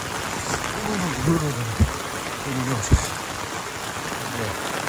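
Heavy rain pours steadily as a rain-soaked backdrop on a muddy Bayang Alpa road ridden by a Yamaha Vixion, with someone talking over it and brief thumps cutting through.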